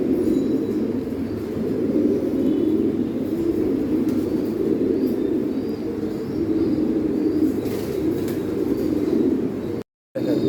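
Soft, continuous low cooing from American Saint pigeons, steady throughout with a brief drop-out near the end.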